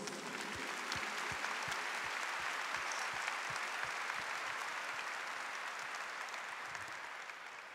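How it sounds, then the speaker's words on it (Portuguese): A church congregation breaks into sustained applause during a Catholic Sunday Mass, dense clapping filling the hall at a steady level for several seconds, with a soft rhythmic thumping underneath. "Vamos aplaudir a Jesus?"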